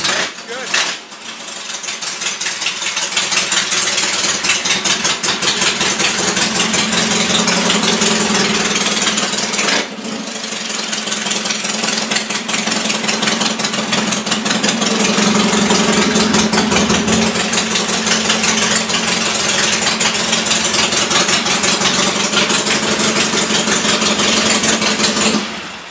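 A 1968 Triumph chopper engine idles loud and close through straight pipes with no mufflers, a rapid, rough, continuous burble that dips briefly near the start and again mid-way before settling back to a steady idle.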